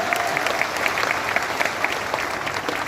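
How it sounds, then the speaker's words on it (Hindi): Audience applause at a live Modicare event in a Patna memorial hall, a steady dense clapping from a large crowd, continuous and fairly loud throughout without pauses. "ताली बजाइए"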